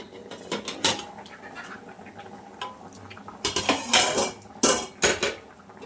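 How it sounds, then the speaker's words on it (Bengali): Metal lid lifted off a pot of thin pangas fish curry, a few sharp clinks and clatters of metal on metal with softer handling noises between them, close and distinct. "আমি এবার সরাটা খুলে দেখছি"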